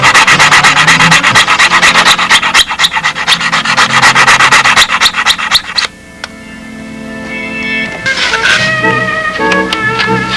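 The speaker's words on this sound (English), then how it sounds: "Good place for the old machinist ruler with some sandpaper." Sandpaper wrapped on a steel machinist ruler sanding a model Seafire canopy for clearance, loud close rapid back-and-forth rasping strokes with a short pause then resumed scraping.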